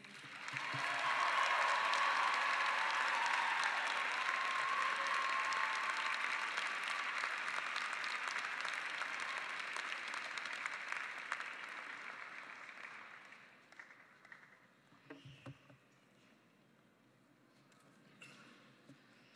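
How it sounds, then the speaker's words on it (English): Sustained applause from a large crowd at a 2019 Lesley University commencement ceremony, strong at first and gradually thinning out, leaving a few scattered claps near the end. "let's have one more round of applause for all of our student speakers"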